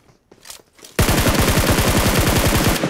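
Rapid automatic gunfire from a building in a battle royale shooter game, a loud sustained burst of evenly spaced shots lasting about two seconds, preceded by a few fainter scattered pops.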